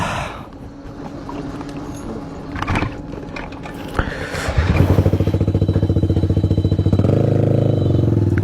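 A motorcycle engine idles and then revs up, settling into a loud, steady chugging drone with rhythmic pulsing, preceded by handling clatter and bumps nearby.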